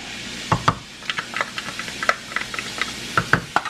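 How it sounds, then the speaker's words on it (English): Onions and garlic hitting a pan on medium-high heat make a soft background sizzle, broken by irregular scraping and clinking stirs close by. "when the onions hit the pan, and throw your garlic in there"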